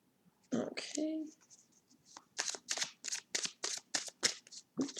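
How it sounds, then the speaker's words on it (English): A deck of cards is shuffled by hand in a quiet room, a series of short crisp riffling bursts in quick rhythm, preceded by brief soft speech. "I'm going to give these a little shuffle."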